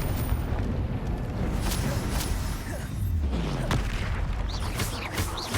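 Confringo fire spells blast in the Hogwarts Legacy game, with dense rumbling explosions and crackling bursts over a constant roaring battle din.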